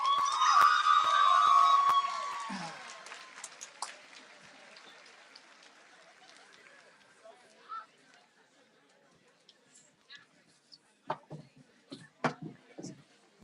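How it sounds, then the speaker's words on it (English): A graduation ceremony audience bursts into dense applause that fills the first few seconds, then thins to scattered claps and chatter before a few louder claps near the end. "would you help me bring up with a great round of applause your class president, Camille Aldrich and Audrey Toynbee"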